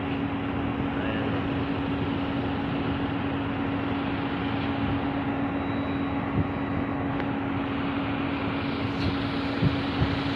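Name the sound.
airplane taking off or landing near NAIA terminal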